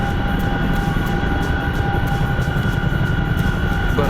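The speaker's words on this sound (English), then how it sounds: "I'm in a helicopter" Steady, dense drone of a simulated helicopter in a flight simulator, constant and close with a faint rhythmic rotor pulse running through the whole stretch, no voices.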